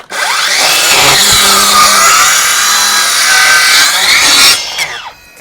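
A battery-powered saw cuts through wood with a loud, close, sustained whining rasp that holds steady for several seconds before winding down and stopping.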